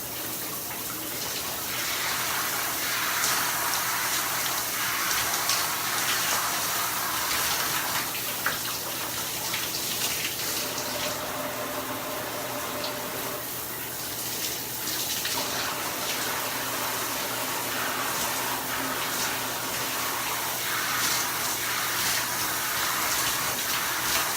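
Shower water pours steadily and close for the whole stretch, a constant broadband hiss with slight splashy variations as someone rinses off.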